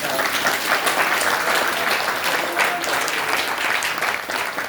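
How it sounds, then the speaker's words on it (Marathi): A crowd applauds loudly and steadily at a gathering at the Shri Kshetra Shiv Chidambar temple in Deswandi, with dense clapping that holds without pause throughout. "काय यासाठी चिदंबरासाठी एकदा जोरात टाळ्या"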